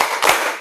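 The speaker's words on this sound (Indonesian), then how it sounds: "Tepuk fokus." A classroom group doing the 'tepuk fokus' clapping chant: one sharp, loud burst of clapping swells and fades within a fraction of a second.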